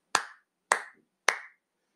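A teacher in a children's English lesson demonstrates clapping for a song: three crisp, close hand claps spaced evenly about half a second apart, each ringing briefly into silence, with no singing.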